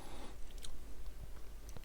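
Soft close wet mouth sounds of whisky being chewed and swished around the mouth, quiet irregular smacks with no talk.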